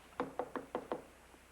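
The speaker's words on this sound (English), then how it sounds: "Knock." Five sharp knocks on a wooden door in a sitcom setting, struck in a quick even series and close by, followed by a softer final tap, with no talk over them.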